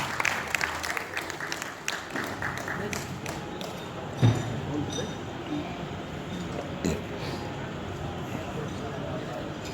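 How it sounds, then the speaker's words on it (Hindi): A crowd at a property launch event for Shalimar One World Vista keeps clapping at moderate distance while an announcer talks over it, with occasional sharp clinks and knocks standing out. "गाइस सभी लोग तालियां बजाते रहिए"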